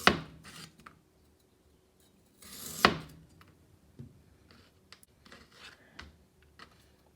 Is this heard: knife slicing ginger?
yes